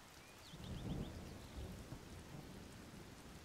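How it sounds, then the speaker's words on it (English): Rain and rolling thunder in the Zelda: Tears of the Kingdom video game, a low rumble swelling early over steady hissing rainfall that continues alone to the end, with faint chirping game tones. "all it took to foil a line this straight was a little bit of rain"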